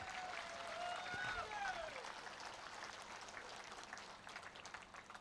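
A crowd at an outdoor public rally for government guarantee-scheme beneficiaries at Kille Maidan, Puttur, claps in a steady, distant wash of applause with faint whistles and murmuring voices.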